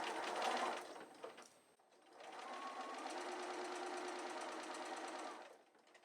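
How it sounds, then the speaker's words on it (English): A sewing machine stitches quilt binding on a scalloped border with a short back stitch, giving a quiet close whir, a brief pause, then a longer steady run of stitching. "I'm just going to get started with a little back stitch"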